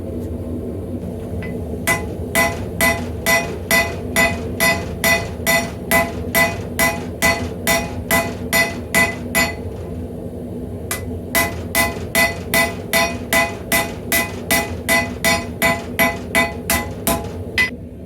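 Hammer forging high carbon steel for a railroad spike tomahawk: loud, evenly paced metallic strikes in two long runs with a short pause between, over a steady forge roar.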